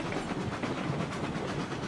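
Steam locomotive in the RailRoads Online game labouring uphill with empty cars, a dense rumbling chug with rhythmic clattering wheels, steady and close throughout, no voices.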